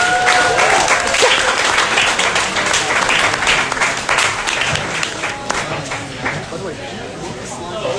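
An audience at an evening talk about the Fediverse and Mastodon applauds a departing speaker, dense sustained clapping from many hands that stays loud and even, gradually easing slightly toward the end.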